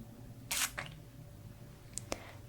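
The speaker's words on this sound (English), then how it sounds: "I have this little spray bottle." A small handheld spray bottle gives two quick, close hissing spritzes in a row, followed by a couple of faint clicks, against an otherwise quiet background with no talking.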